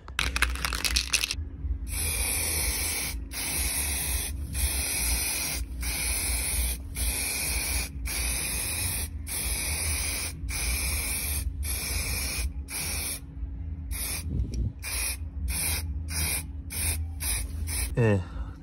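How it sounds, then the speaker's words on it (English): Aerosol spray paint being applied to a ZC engine valve cover, long loud hissing bursts broken by short regular pauses, close up with no talk. "then I'm gonna go spray."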